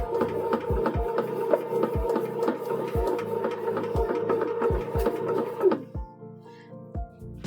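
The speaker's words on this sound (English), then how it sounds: "With this bread machine, it's going to mix, knead, and proof." A bread machine mixes and kneads dinner roll dough with a steady motor hum and regular thumping beats of the paddle, close and clear, until the hum drops away near the end.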